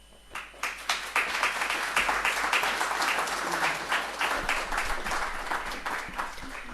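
A lecture audience applauds to welcome a speaker, with sustained dense clapping that builds quickly and stays steady and fairly loud, with no talking over it.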